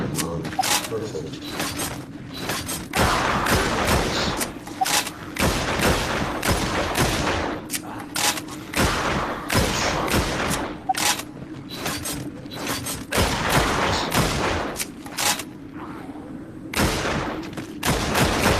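Rapid gunfire bursts and single shots from the video game Drop Dead: Dual Strike, loud and steady throughout, with a game announcer's voice calling out between shots.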